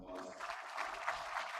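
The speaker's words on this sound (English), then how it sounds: "so give those guys a round of applause." Soft, steady applause from a dinner audience at a Republican Party Lincoln Day Dinner in Carson City, heard from a distance and fairly quiet throughout.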